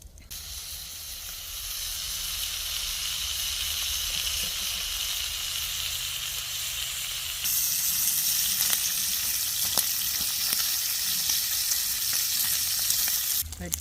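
Bacon sizzles in a small skillet on a folding wood-burning camp stove, a dense continuous hiss and spatter that swells louder partway through, close up with no talking.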